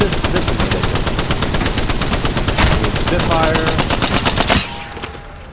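Rapid, steady automatic fire from the Spitfire light machine gun in Apex Legends, a loud sustained stream of evenly spaced shots lasting several seconds before stopping abruptly, leaving a faint hum.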